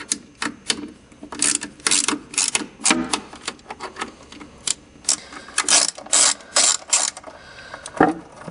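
A ratchet with a 7/16 inch socket loosens a bolt on a 1963-67 C2 Corvette headlight motor, giving close, crisp bursts of rapid clicking in short irregular strokes with brief pauses between.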